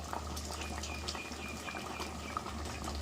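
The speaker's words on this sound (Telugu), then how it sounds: "మూతేసి కొద్దిసేపు ఉడకనియాలి కాయలు బాగా ఉడకాలి ఇంకా ఉడకలేదు వంకాయలు" Eggplants simmer with tamarind in a covered pot, giving a steady soft bubbling and gurgling with small irregular pops, close and fairly quiet, with no voices.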